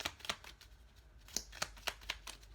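Tarot cards being handled close up, a series of about ten crisp flicks and snaps in an uneven rhythm against quiet background.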